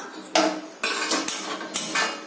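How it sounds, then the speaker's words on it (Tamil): A metal idli steamer pot clanks and scrapes against a stove in several sharp bursts, close and bright, with no one speaking. "இப்ப நான் இட்லி பாத்திரம் வச்சிருக்கேன் அடுப்புல."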